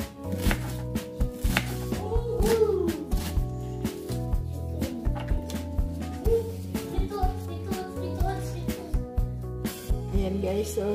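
A knife chops onion on a board in a home kitchen while milkfish is being prepared for grilling. Quick, steady, close knocks repeat throughout, with a little background voice and clatter.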